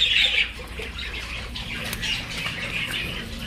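Australian budgerigars in a cage squawk and chatter up close while wings flap, with a louder burst at the start and steady bird noise after it and no talking.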